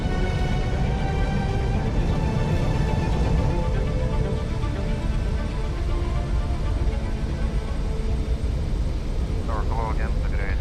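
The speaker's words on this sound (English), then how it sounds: "stop 66 tons of plane before the icy runway runs out" An easyJet airliner weighing 66 tons lands and brakes on an icy runway, with a steady loud engine and rushing roar heard from the cockpit and voices talking over it.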